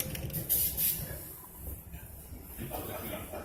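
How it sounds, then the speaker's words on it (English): A spray bottle of cleaner spritzing onto a helmet, a steady hissing spray lasting several seconds with bursts of rushing air, close and fairly loud. "Just kind of spray it on there."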